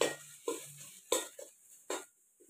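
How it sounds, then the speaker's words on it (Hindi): Spoon scraping and stirring in a pan of fried onion mixed with spices for khichdi made from leftover rice, a few short clinking strokes with quiet gaps, close and alone. "सब मसाला को मिक्स कर लिया इसमें"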